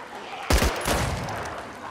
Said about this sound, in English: Did you just shoot that next to my ear?